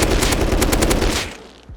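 Sustained automatic gunfire from a weapon in the game Rust, sprayed in one continuous rapid burst for about a second and a quarter before cutting off into a short fading tail.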